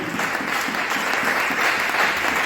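A church congregation applauding to acclaim the Lord, dense steady clapping from many hands filling the room without a break.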